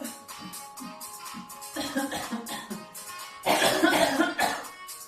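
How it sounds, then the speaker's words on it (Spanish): A person coughs a few times during a pilates class, short bursts cutting through an instructor's counting and background music, with a louder cluster near the end. "mientras la tos, pero sana"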